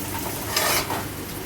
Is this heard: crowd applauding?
no